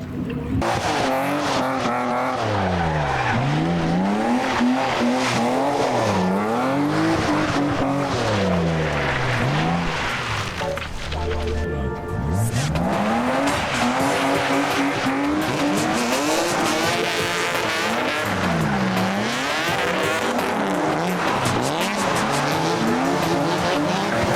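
BMW E36 drift car sliding around a skid pad, engine screaming at high revs with sweeping pitch rises and falls and continuous tire squeal, loud and close for the whole stretch with a brief dip in the middle.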